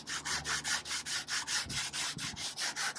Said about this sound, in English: You can see in this stuff, it sands right off here.